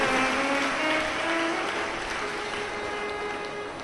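A large audience at a Hindu Shiva Purana religious gathering claps together in a dense, continuous patter that sounds fairly distant and soft and fades slightly toward the end.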